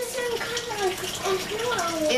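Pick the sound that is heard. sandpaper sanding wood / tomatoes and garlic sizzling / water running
water running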